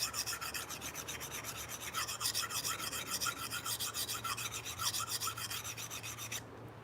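A knife is reprofiled on a sharpening stone in steady, rhythmic back-and-forth grinding strokes, close and continuous, with no talking.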